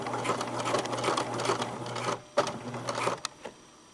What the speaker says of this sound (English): now I'm sewing across the width of the elastic